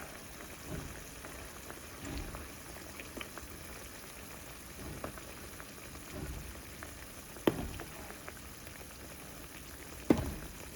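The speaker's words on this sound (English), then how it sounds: "I'm going to pour in 2 cups hot water." Hot water poured into a pan of frying sausages, a steady hissing sizzle with soft bubbling and a couple of sharp pops, no voices.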